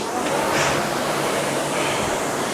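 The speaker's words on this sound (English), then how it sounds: "The water will be whooshing more if you're on a water rower." A steady, loud whoosh of water churning in a water rower's flywheel tank fills the clip without pause, with no voices.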